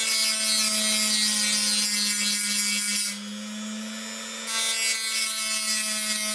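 Engine piston ring gaps being filed, a continuous rasping scrape with a steady tonal hum, pausing briefly midway before the filing resumes.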